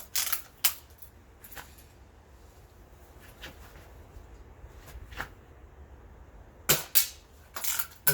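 A Crosman lever action BB gun fires repeatedly at metal targets, giving crisp snapping shots at irregular intervals with a cluster near the end, sharp and fairly close over a quiet background.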